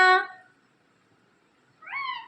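A parrot imitating a cat gives two short, bright meows separated by a pause of near silence, with harmonic, cat-like pitch, close to the listener.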